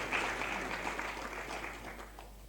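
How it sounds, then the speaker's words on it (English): Steady applause from a seated audience at a magazine launch event, a dense wash of many hands clapping at moderate distance, fairly faint and sustained without a break. "Let's give Touchline a round of applause for this historic milestone"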